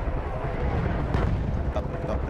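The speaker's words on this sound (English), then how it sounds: "I have to run through artillery fire." Distant artillery fire and explosions in the Battlefield 1 video game, a steady rumbling barrage with a few sharper bursts, moderately loud.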